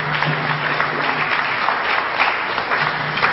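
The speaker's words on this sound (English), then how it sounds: "and get his brother a round of applause." An audience at a history lecture applauds steadily, a dense, close and fairly loud patter of many hands clapping with a faint low hum underneath and no talking.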